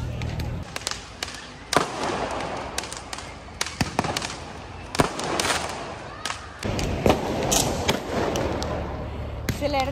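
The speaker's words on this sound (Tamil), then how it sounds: "சில இடத்துல வந்து ஃபயர் ஒர்க்ஸ் எல்லாம் நம்ம பார்க்குற மாதிரி இருக்கும்." Diwali fireworks bursting during a 2024 celebration in Dubai, a series of sharp cracks and thumping booms at irregular intervals, some loud and close, others more distant, with voices talking in the background.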